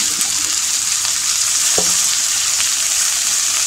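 Raw jackfruit pieces sizzle steadily while being sautéed in a pan, a continuous close frying hiss with an occasional soft clink of the spatula.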